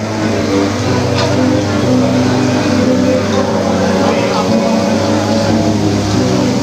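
A Thai longtail boat engine drones steadily and loudly throughout, a continuous low mechanical hum with a faint rising rev, close by with no talk over it.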